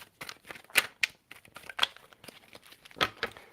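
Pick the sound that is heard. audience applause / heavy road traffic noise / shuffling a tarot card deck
shuffling a tarot card deck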